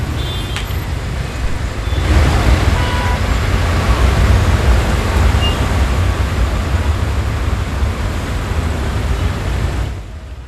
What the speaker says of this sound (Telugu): పంతంగి టోల్ ప్లాజా దగ్గర వాహనాల రద్దీ క్రమంగా పెరుగుతోంది